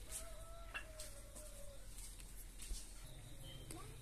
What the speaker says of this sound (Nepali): हाम्रो कुखुराहरू लोकल कुखुराहरू हो